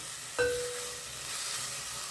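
Green paste sautéing in a pan for boiled-egg bhurji gives a steady, soft sizzle throughout, with one sharp metallic tap near the start.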